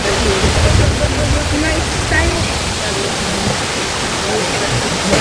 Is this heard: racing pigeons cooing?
no